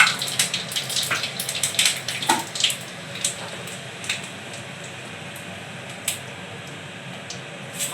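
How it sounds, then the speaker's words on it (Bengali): Eggplant slices fry in a pan, with dense crackling spatter in the first few seconds that thins into scattered sharp pops. No one speaks. "এইখানে বেগুন ভাজা হচ্ছে"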